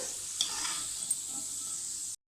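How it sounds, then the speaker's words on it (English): Potatoes frying in hot oil for a loaded egg omelette, giving a steady, close sizzle with a few faint pops throughout before it cuts off abruptly. "When the oil becomes hot, we add some potatoes and roast them until they turn golden brown."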